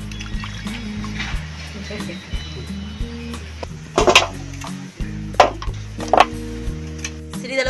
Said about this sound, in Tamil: இப்போ நம்ம சிக்கனை உப்பு மஞ்சள் போட்டு நல்லா கழுவி எடுத்துக்கலாம்.